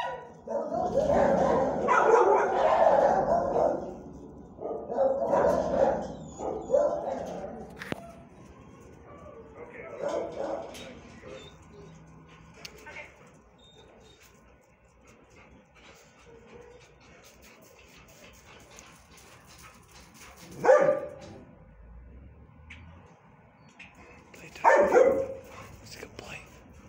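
Dogs in a shelter kennel bark, yip and whimper in loud bursts early on, then fade to scattered yelps with a couple of sharp barks later, while people talk nearby.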